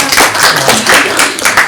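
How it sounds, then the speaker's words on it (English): Audience applause for the Finance Chair after her presentation of Q2 reports and Spring 2025 budget allocations at a student government senate meeting: a steady wash of clapping that swells and dips for under two seconds. "If we can give her a round of applause."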